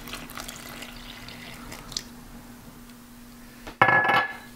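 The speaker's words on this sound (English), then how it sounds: "So now I have about 270 grams of water, and I'm just gonna add that to the mix." About 270 grams of water pours into a baguette dough mix, a short, loud splashing burst near the end after quiet kitchen clinks and a steady background hum.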